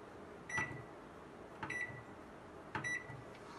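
A microwave oven baking a mug cake in microwave mode, with three evenly spaced short electronic beeps rising over a low steady hum, alone and fairly quiet.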